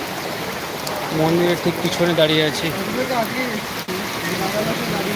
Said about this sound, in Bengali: প্রচণ্ড বৃষ্টি শুরু হয়েছে মুসলধারে